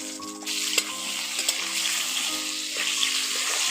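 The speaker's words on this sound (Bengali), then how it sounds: "এখন আলুগুলো দিয়ে ভালো করে আলুগুলো ভেজে নেব" Large chunks of potato frying in hot oil for a light chicken curry, a steady bright sizzle running throughout with a few soft clinks and stirring sounds, close and fairly loud, no talking.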